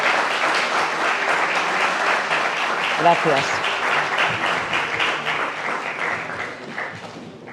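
Sustained audience applause at an awards press conference, dense clapping throughout with a brief spoken thanks in the middle, tapering slightly toward the end.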